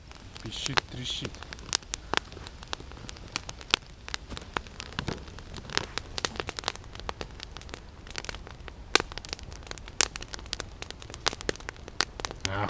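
Campfire kindled in the rain in a forest, crackling with sharp irregular pops and snaps scattered throughout over a steady hiss of rain, fairly close, with occasional voices talking nearby.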